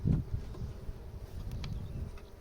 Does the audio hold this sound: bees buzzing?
yes